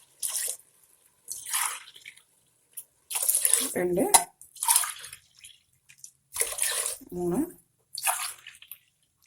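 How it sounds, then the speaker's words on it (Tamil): Coconut milk is poured into a pot in several separate bursts of splashing liquid, each lasting about a second, with a voice talking briefly between pours. "தேங்காய் பால் வந்து 4 கப் போட போகிறோம்."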